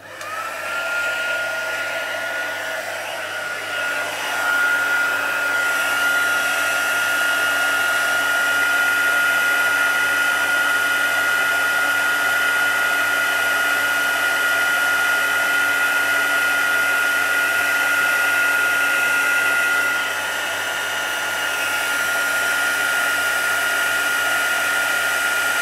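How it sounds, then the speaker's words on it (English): A craft heat tool used as an embossing heat gun runs continuously at close range, a loud, steady whirring blower drone with a high whine that holds for about twenty-five seconds with no talking. "Now it's going to be noisy just for a little while I use my heat tool."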